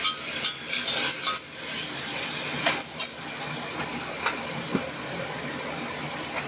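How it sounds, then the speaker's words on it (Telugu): Ginger garlic paste fries in a pan for mutton keema, a steady close sizzle and hiss broken by occasional scrapes and taps of a stirring spoon. "ఇప్పుడు అల్లం వెల్లుల్లి పేస్ట్ వేస్తున్నాను. పచ్చివాసన రాకుండా వేపాలండి"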